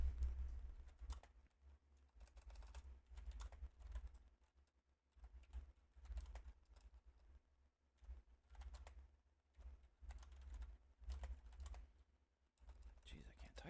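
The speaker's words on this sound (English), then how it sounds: "I can't type this morning" Typing on a computer keyboard gives faint, irregular bursts of clicks over a low steady hum, with soft talk in the background.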